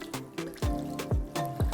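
Water pours into a small bowl of spices set to soak for a Goan prawn curry, in several short splashing bursts with gurgling trickles between them, close and moderately loud.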